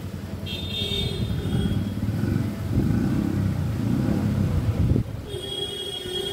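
A car is on the move, with a steady close engine and road drone holding for several seconds, a few faint high tones above it and a brief dip near the end, no talking.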